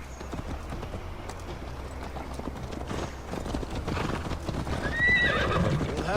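Horse hooves clip-clop in a steady galloping rhythm in the video game Assassin's Creed Valhalla, moderately loud and sustained, with a horse whinnying near the end.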